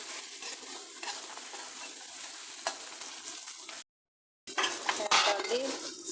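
Masoor dal stirred in hot oil in a pan, a spoon scraping and clinking against the metal over a soft sizzle. A brief gap of silence falls in the middle before the stirring resumes.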